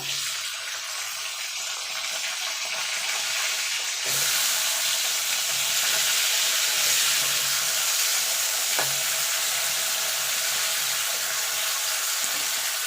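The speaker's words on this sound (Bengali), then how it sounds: "এই তেলে সিমটাও ভেজে নেব।" Flat beans fry in hot oil in a pan: a continuous close sizzle that swells louder partway through, with a couple of brief clinks and no voices.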